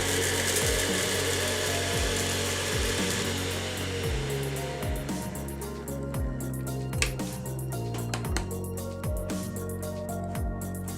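Electric spice grinder whirring loudly as it pulverises dry-roasted whole spices, a steady motor roar with rhythmic rattling clatter of the spices inside the jar, running continuously throughout.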